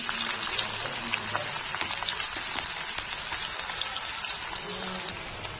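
Chopped onion sizzles in hot oil in a pan for dal khichdi, a steady close crackle and spatter with scattered sharp pops running through the whole stretch.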